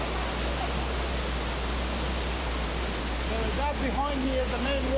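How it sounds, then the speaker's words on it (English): The main waterfall of Tukad Cepung, falling inside a cave in a Bali jungle canyon, gives a steady, even hiss of rushing water, with a voice speaking faintly toward the end. "That behind me is the main waterfall, and it looks like it's inside a cave."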